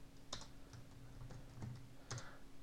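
A computer keyboard used as input for a DCPU-16 terminal program: a handful of separate, faint key presses clicking at an uneven pace in a quiet room, with a steady low hum behind them.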